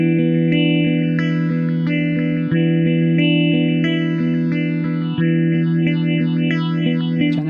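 Phaser effect on a sustained electric guitar chord, its notch sweep driven by an LFO generator and then an expression pedal, producing steady swirling comb-like sweeps that speed up toward the end, with no voices.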